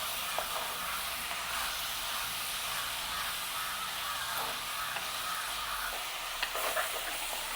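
Dried trevally fish sautés in hot oil in a pan, giving a steady, close hissing sizzle with a few faint stirring scrapes and no speech.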